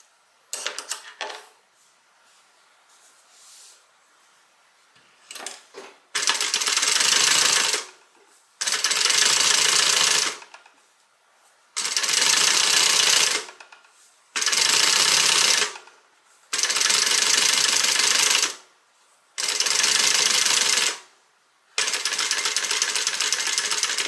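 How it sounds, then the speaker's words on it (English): A sewing machine stitches down the seam allowance on a Fairhaven tote bag with a solid front and contrasting sides, running in loud steady whirring bursts of a few seconds each, separated by short pauses, after quieter handling noises at the start. "Going to go ahead and stitch that seam allowance down."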